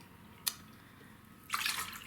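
White and apple cider vinegar being diluted with water for refrigerator pickle brine: a brief splash, then a steady rushing pour in the last half second, close and fairly loud.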